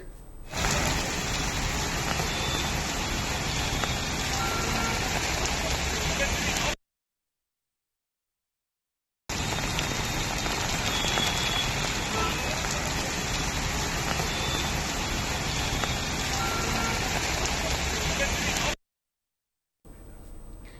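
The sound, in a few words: heavy rain falling in Hyderabad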